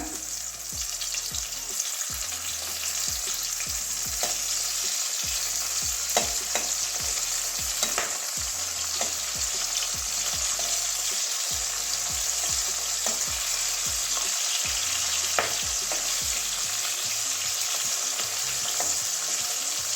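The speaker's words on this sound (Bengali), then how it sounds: "এইভাবে ডিমগুলো প্রত্যেকটা ডিম এভাবে ভেজে নেবো" Eggs fry in oil in a pan, giving a loud, steady sizzle throughout with frequent light clicks and scrapes from stirring. No voices are heard.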